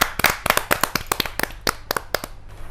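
Clapping to welcome poet Rajrani Singh at a Hindi kavi sammelan poetry gathering. Distinct, sharp hand claps come in an uneven rhythm, fairly close and sparse, as if from a small group, and thin out toward the end.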